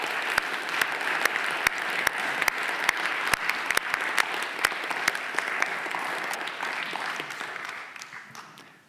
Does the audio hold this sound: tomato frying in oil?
no